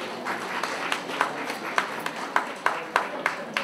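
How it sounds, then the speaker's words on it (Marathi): An audience at a felicitation ceremony claps in a steady rhythm, one sharp clap every third of a second or so, moderately loud and close. "सर्वांनी टाळ्या वाजवाव्यात"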